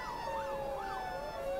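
A police car siren wails with a rising and falling pitch in the Cities Skylines city-building game, faint and continuous over a soft traffic hum.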